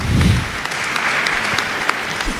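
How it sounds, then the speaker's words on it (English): Audience members at a youth empowerment summit applaud a speaker, a brief, steady burst of many hands clapping in a hall, following a short low thump at the start, with no talking over it. "Let's clap for her."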